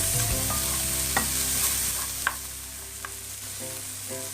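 Chorizo and chopped garlic frying with softened onion in a pan, a loud continuous sizzle with occasional scrapes and clinks of a utensil stirring, close up and without talk.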